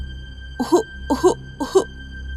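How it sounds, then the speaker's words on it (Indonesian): A person coughs three times in quick, evenly spaced bursts, fairly close, over a faint steady hum. "terdengar suara orang terbatuk-batuk"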